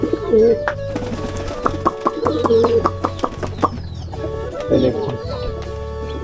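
Pigeons coo and Pakistani chickens cluck together inside a pigeon house, a busy mix of birds close by, with occasional thumps and rustles and a voice speaking now and then.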